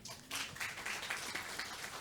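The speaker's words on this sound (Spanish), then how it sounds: "Nuevamente démosles un fuerte aplauso" Church congregation applauding at a New Year service: a broad wash of many hands clapping, fairly distant and soft, sustained throughout with a small voice at the very start.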